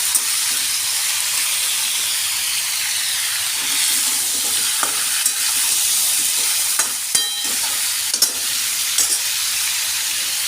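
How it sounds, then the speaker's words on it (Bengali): Pumpkin pieces fry in a pan for a Bengali chhokka, giving a loud, continuous sizzle with occasional light clicks and scrapes from stirring. "আমি এটা বেশ ভালো করে নাড়াচাড়া করে ভাজা ভাজা করে নেব একটু।"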